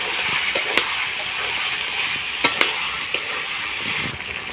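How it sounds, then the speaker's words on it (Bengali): Chicken meat sautéing with garlic in a hot pan gives a steady, close sizzle, with a few sharp clicks and scrapes of stirring breaking through the continuous hiss. "রসুনটা দিয়ে দিয়েছি, দিয়ে মাংসটাকে ভালো করে কষাতে থাকবো।"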